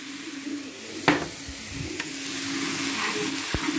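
Trout stir-fry with soy sauce sizzling in a pan, a steady close hiss broken by a few sharp clinks and scrapes of a utensil stirring against the metal.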